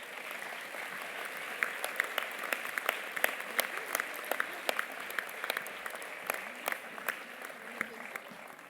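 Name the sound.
audience applauding the youth municipal council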